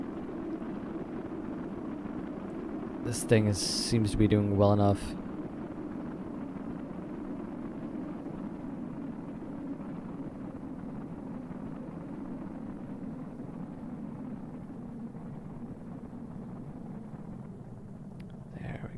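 Spacecraft engines in Kerbal Space Program produce a steady low rumbling roar throughout, with someone talking briefly over it and a short burst of brighter interface or effect sound near the start.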